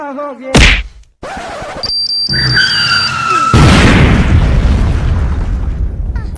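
A bomb goes off with a loud, abrupt bang after a brief voice, followed by a stretch of near silence, then synthetic whistling tones and a sustained roaring, crackling blast-like rumble that fills the rest.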